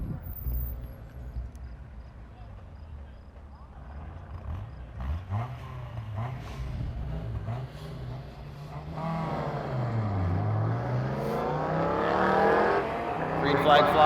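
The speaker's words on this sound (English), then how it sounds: "the S2000 driver, the Corvette driver, both navigating the high side of the Speedway through the three-cone slalom and the start-finish line" Honda S2000 and Corvette racing side by side through an autocross course on a speedway's high side, engines rising and sweeping in pitch through a three-cone slalom. An announcer talks over them as the engines grow louder.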